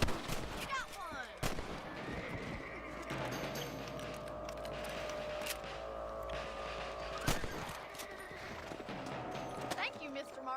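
Gunshots ring out while hunting rabbits in the Red Dead Redemption video game, a few sharp cracks over steady outdoor game ambience with hoofbeats.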